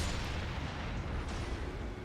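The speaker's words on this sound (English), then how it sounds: "we're going to shoot them with fire arrows. Blow this guy up." In Elden Ring, a barrel hit by fire arrows blows up, giving a loud, dense, rumbling blast that fills the whole moment with broadband roar.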